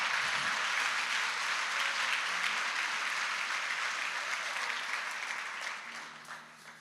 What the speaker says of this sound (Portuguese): Eu aplaudia Jesus se eu fosse você.